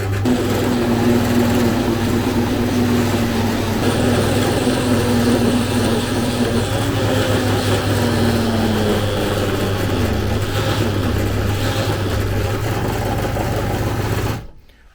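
A small rotary engraving tool runs with a steady, high motor whine and buzzing grind for several seconds before cutting off abruptly.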